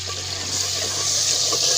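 Warm water running steadily from a household tap, a continuous close hiss and splash with a low hum underneath, no voices.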